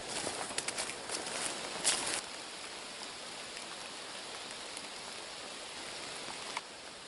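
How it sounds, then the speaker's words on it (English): Rain falls outside at a tent camp in October, a steady soft hiss that continues evenly throughout, with a few brief knocks and taps near the start. "It just started to rain out."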